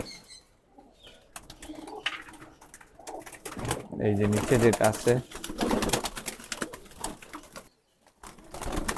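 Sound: pigeons cooing

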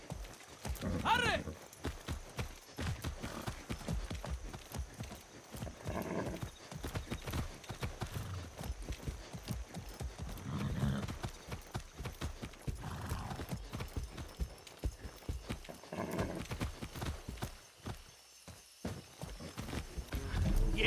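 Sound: horse galloping and neighing in video game Far Cry 6

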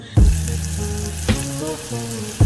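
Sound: garlic frying in butter

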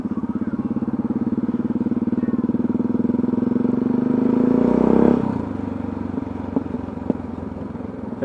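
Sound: motorcycle riding through crowded Groningen city centre

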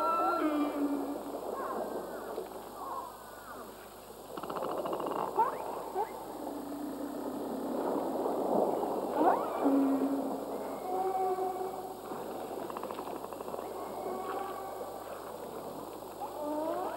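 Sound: killer whale vocalizations

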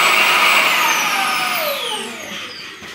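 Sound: Shark cordless vacuum cleaner running on boost

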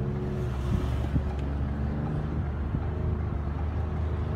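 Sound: 2013 Ford Explorer 3.5 liter V6 exhaust with muffler delete

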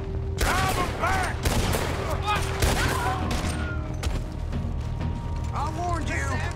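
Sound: gunfire in the video game Red Dead Redemption 2

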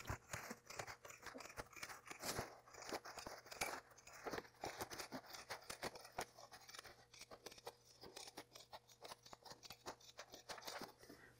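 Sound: pinking shears cutting fabric along placement line

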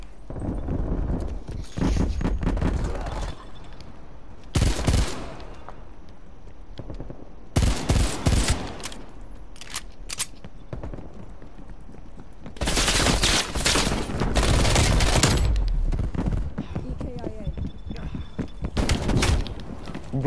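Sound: gunshots in a shooter video game

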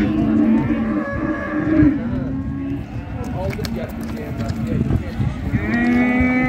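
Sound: calves mooing at livestock market

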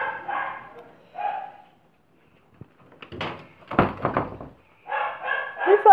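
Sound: dogs barking

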